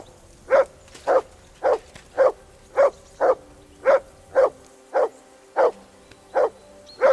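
Dog barking in the video game Kingdom Come Deliverance 2, eleven loud, evenly spaced single barks in a steady rhythm at close range, with no talking over them.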